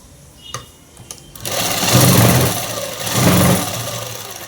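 A sewing machine stitches a French cut dress. A few light clicks come first, then a loud, close motor whir with two rising bursts of rapid stitching.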